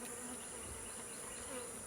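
Honey bees buzz steadily around an open beehive, a dense, continuous, close hum with no pauses or voices.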